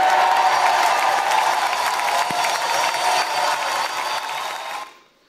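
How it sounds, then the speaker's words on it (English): A large community crowd at an official civic event in Guadalupe, Nuevo León cheers and applauds in a dense, sustained roar, loud and steady before fading out at the end. "They continued cheering like that for about 12 straight minutes."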